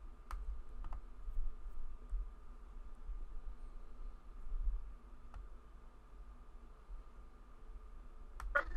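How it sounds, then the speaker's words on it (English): Sparse keyboard clicks tap out at intervals over a steady low hum, faint and scattered, with a short cluster of keystrokes near the end. "we can just go with him typing on roll 20 for now"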